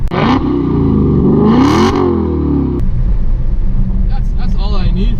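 Dodge Challenger Scat Pack with a 6.4 liter 485 horsepower engine, a 2015 R/T Scat Pack Shaker, revving hard up close, its deep rumble climbing and falling twice before settling into a lower, rougher growl.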